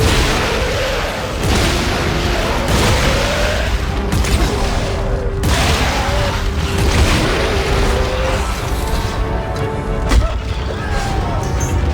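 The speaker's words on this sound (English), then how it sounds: "I think the ground is coming apart behind us." In Dead Space 3, ground breaks apart behind the player as a loud, continuous rumbling roar with repeated heavy booms and crashing debris, rising and falling for several seconds with no pause.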